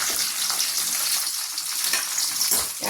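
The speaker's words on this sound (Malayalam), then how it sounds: "കടുക് കൊടുക്കാം." Mustard seeds hit hot oil in a pan, a dense, bright sizzle with faint crackles and pops running steadily close by, with no talk.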